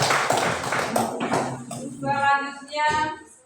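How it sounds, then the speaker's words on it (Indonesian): Applause for a presenting group in a classroom-style discussion session: a short burst of scattered hand clapping and tapping, followed by a voice speaking over it. "mari kita berikan aplaus buat kelompok."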